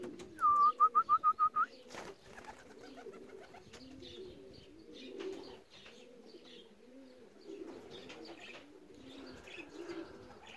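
Racing pigeons coo steadily at the loft as birds return from a 349 km race, a continuous low cooing chorus that follows a short burst of bright, evenly spaced whistled notes.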